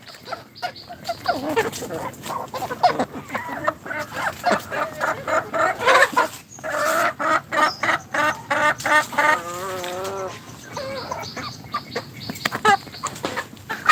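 Pakistani-breed chickens on a farm cluck and squawk in quick, overlapping bursts nearby, with a few drawn-out calls among the busy flock.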